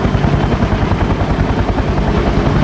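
A helicopter at a rotorcraft airshow, climbing out of ground effect, roars loudly and close, its rotor thumping in a steady rapid rhythm with a dense engine rumble throughout.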